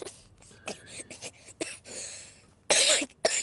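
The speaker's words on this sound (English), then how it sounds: "Why can't I not cough?" A person coughs in a fast cluster of sharp, close bursts during a live stream, with a louder, harsher cough near the end and brief gaps between.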